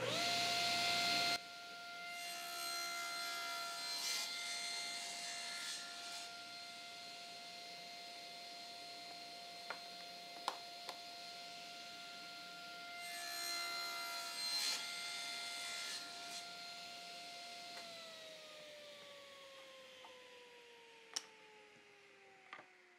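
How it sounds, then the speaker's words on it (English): A table saw runs steadily with a high whine while wood clamped to a sled feeds through the blade, the cut adding a louder rasping layer twice, and the motor pitch dropping as it spins down near the end. "I can put my wood in, clamp it down, and now I can safely cut that wood."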